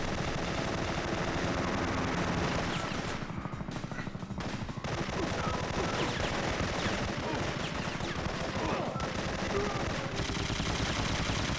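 Sustained, dense gunfire in the Syphon Filter shooter game during a helicopter fight, loud and continuous automatic bursts filling the whole stretch with little pause.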